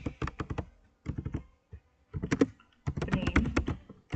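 Rapid clicking keystrokes on a computer keyboard while typing C code, coming in several short bursts separated by pauses, close and fairly quiet.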